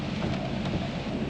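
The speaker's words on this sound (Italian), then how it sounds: "con questa pioggia, poveretti." Steady rain pours down with a dense, continuous hiss and rumble, heavy and close, with no voices over it.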